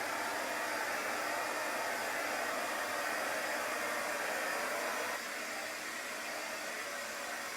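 A hair dryer blows steadily on a large piece of furniture freshly coated in chalk paint, a constant close whooshing hum that drops slightly in level partway through and runs without any talking.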